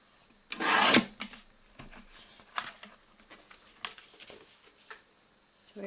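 A paper trimmer slicing through a sheet of paper, one loud, brief rasping cut followed by fainter scraping and handling sounds nearby.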